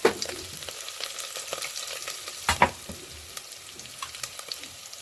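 Steady sizzling of fenugreek seeds, green chillies and curry leaves in hot oil for tempering, with crackling pops and a stir or clatter midway; no voices.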